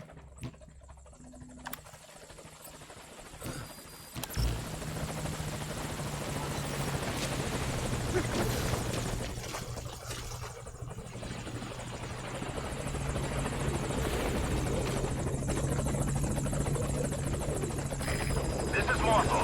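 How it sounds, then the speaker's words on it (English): A helicopter in the Metal Gear Solid V: Ground Zeroes video game arrives at a landing zone, its steady rotor drone and low engine hum growing fuller and louder through the clip, with a voice heard over it. "This is Morpho, arriving shortly at LZ."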